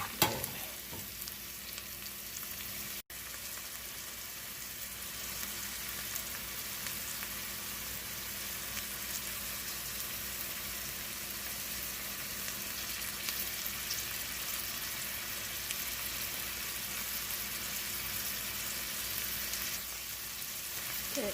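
Onions sautéing in a pan for a Hawaiian-style kalua beef cabbage dish, a steady, even sizzle that holds at a moderate level throughout with no talking.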